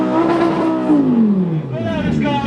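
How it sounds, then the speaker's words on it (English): Loud green Lamborghini Gallardo LP560 at a car show, engine revving hard in one long rising-and-falling burst, close and dominant. "Loudest car of the show award went to this green Lamborghini here."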